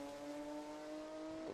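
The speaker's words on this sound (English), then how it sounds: "Mosley passed him there at Canada 11." Prototype race cars at Road America during PSSA prototype racing give a distant, steady engine drone with a sustained pitch that slides at the end as the car passes, faint and alone.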